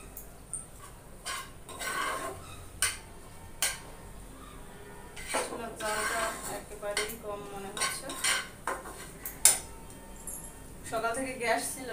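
Flattened rice frying with egg in a pan is stirred with a utensil, giving repeated scraping and clinking strikes against the metal at an irregular pace, while a voice talks over the cooking.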